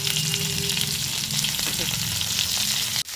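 Cauliflower and potato pieces frying in oil in a pan with other vegetables, a continuous close sizzle with occasional stirring scrapes, ending in a sharp clatter of the spatula.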